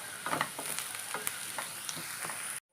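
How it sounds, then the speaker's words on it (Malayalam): Green chillies fry in hot oil in a pan for a sardine curry while being stirred, giving a steady close sizzle with soft scraping strokes that recur every half second or so, then the sound cuts off abruptly. "ഒന്ന് ഇളക്കി കൊടുക്കാം. നമുക്കൊരു 4-5 ചെറിയ പച്ചമുളകാണ് ഇട്ട് കൊടുക്കാം."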